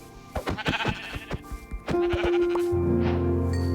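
Several sheep bleats in Minecraft in a row, fairly close and clear, followed by a sustained synthetic tone with a low hum underneath.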